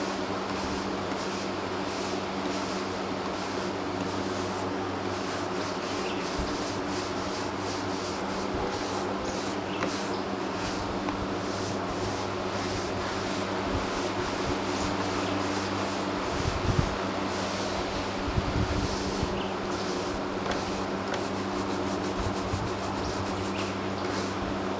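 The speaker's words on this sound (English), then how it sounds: "You'd be surprised at how much of this loose stuff will just come up with a bristle brush." A stiff bristle brush scrubs loose char off burned wooden boards in steady, continuous rubbing strokes, close and fairly loud, with a couple of heavier knocks near the end.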